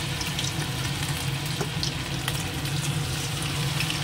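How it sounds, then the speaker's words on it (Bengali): Chicken pieces fry in hot oil, giving a loud, steady sizzle that holds with little change throughout, with no talk over it. "এবার এগুলো একটা একটা করে আমি তেলের মধ্যে, তেলটাও তো দেখেছেন গরম হয়ে আছে, ছেড়ে দেবো।"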